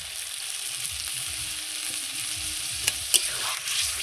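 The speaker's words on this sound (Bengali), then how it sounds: "এই সামান্য একটু জল দিয়ে এটাকে আমি আবারও কষিয়ে নেব।" Spice masala for a rohu fish head curry fries in oil while being stirred in the pan, a steady sizzle broken by rhythmic spatula scrapes and a couple of sharp metallic taps.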